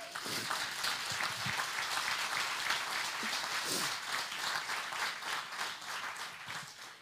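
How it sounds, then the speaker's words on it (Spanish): Church congregation applauding together, a sustained wash of clapping from many hands at moderate distance, rising and then tapering off. "Entonces démosle un aplauso a Él."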